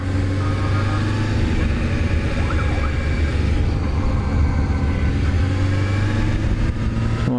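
A siren wails somewhere in the distance over steady, loud road and engine noise from a car in motion around Grand Lake St. Marys, Ohio, with no talking.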